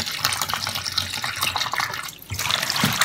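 Tap water pours into a kitchen sink as spinach is set to soak, a loud close splashing rush that dips briefly and then resumes.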